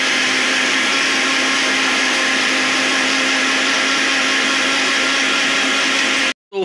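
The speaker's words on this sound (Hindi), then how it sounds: "तो चलिए फिर इसको मस्त अच्छे से मिक्सी में मिक्स करते हैं।" Mixer grinder whirs loudly and steadily, blending a masala of tomato, onion, garlic, cumin, mustard seeds and bay leaf for chicken curry, a constant high motor drone that cuts off abruptly near the end, with no talking.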